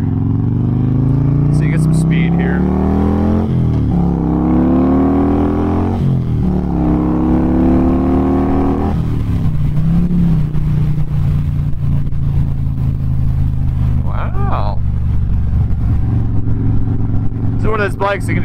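A 2008 Harley-Davidson Road King with a Twin Cam engine picks up speed, its loud engine note rising through several gear changes before settling into a steady cruise, while a rider talks over it.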